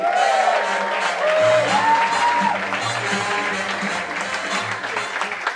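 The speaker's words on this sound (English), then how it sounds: "applause for the fantastic Rebecca Donahue!" A comedy club crowd at The Stand gives a comedian sustained applause, a steady dense clatter of clapping with a few cheers, while an amplified voice rises over it at the start.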